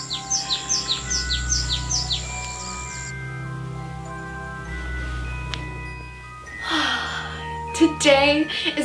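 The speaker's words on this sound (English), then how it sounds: "the birds are chirping" Birds chirp in a quick repeated run of bright tweets early on, fairly clear over a low background hum, before fading under other indoor sounds and a voice.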